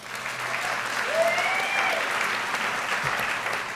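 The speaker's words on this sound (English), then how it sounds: "Keep the applause going" Sustained crowd applause fills a hall at a Chamber of Commerce business excellence awards ceremony, a steady dense wash of many hands clapping throughout, with faint voices or whistles rising briefly above it.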